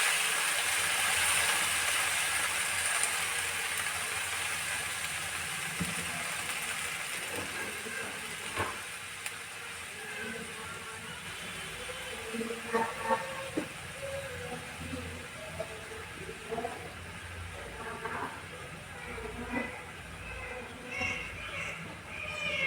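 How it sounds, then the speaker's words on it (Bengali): Mixed vegetables fry in a pan, giving a steady, loud, broadband sizzling hiss throughout, with occasional clinks and scraping as someone talks over it. "তো আমি এদিকে মিক্স সবজি ভাজিটা বসিয়ে দিয়েছি"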